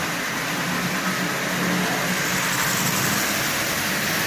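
A Marx pre-war toy train motor, fitted with a newly added headlight, runs at half power with a steady, dense whirring buzz that stays close and constant throughout.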